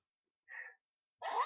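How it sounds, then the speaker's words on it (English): Someone sneezes once, close and fairly quiet: a short breathy intake comes first, then after a pause a sharp burst of the sneeze itself, with no talking. "I'm gonna sneeze."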